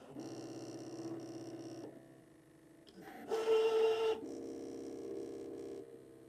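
A Brother ScanNCut machine cutting card gives a steady mechanical whirring hum with a brief pause, then a louder buzzing burst as the head moves, before settling back into the hum. No one speaks.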